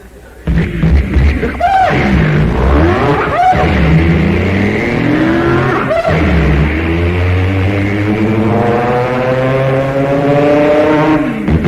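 A man vocally imitates a four-speed stick-shift hot rod taking off down the road, his engine tone climbing through the gears in loud, close revs with distinct breaks at each shift.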